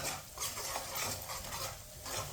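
Semolina being roasted in a pan for gajar ka halwa, stirred steadily with a spoon, giving a soft continuous scraping and rustling close by with no talking.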